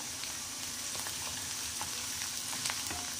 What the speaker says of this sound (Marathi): आता त्याच्यामध्ये 1 तेजपान टाकायचं, 2 लवंग टाकायच्या आणि 2 मिरे टाकायचे, ते सुद्धा परतून घ्यायचं